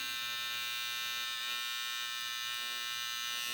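An electric hair clipper shaves a line into a client's hair during a razor part haircut at a barbershop. The motor buzzes steadily at close range with no break and no talking.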